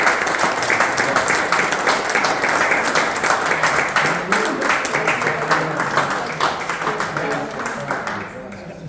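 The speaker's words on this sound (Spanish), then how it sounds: "¿Qué tal si damos una aplauso?" A church congregation claps together at a united worship service, a dense, sustained wash of applause that fills the room throughout and tapers slightly at the very end.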